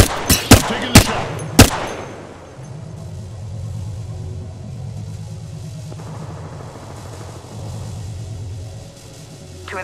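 Gunfire in the video game Apex Legends, a rapid burst of four or five sharp shots at the start, then a low rumbling engine-like drone that continues to the end.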